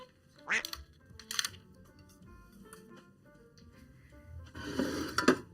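A duck quacking sound effect plays in loud, separate bursts: one quack, a second shortly after, then a longer flurry of quacks near the end, with quieter sounds in between.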